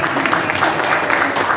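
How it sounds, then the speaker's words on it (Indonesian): An indoor audience claps together at the start of an interview event, a dense, steady patter of hands heard up close for a short moment. "tepuk tangan dulu"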